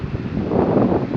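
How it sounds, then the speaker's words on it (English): Strong wind buffets the microphone outdoors at a shed roof build, a dense continuous rumbling roar for about a second with no other sounds. "It's windy as hell"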